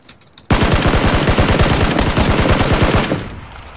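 Loud, close automatic gunfire in PUBG tears through about two and a half seconds as a rapid, even burst of shots, then stops abruptly and leaves a fading echo.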